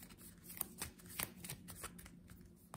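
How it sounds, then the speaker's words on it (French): Combat cards being drawn in the Tainted Grail board game, heard as close, quiet card slides and flicks in a quick irregular series without any talking. "Je pioche 3 cartes de combat."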